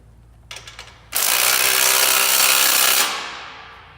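Ratchet wrench tightening bolts on a 2017 Ford Mustang slip-on exhaust: a few quick clicks, then a loud sustained rapid ratcheting burst lasting about two seconds before tapering off, close by with no talking.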